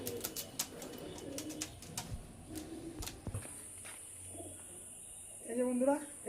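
Pigeons coo softly in a loft among big-size fancy birds, a low murmuring coo near the end with faint rustles and footsteps, while someone talks over the birds throughout.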